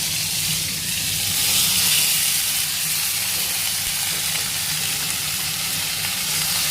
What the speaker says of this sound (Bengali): ভেজে নেব পটলগুলো।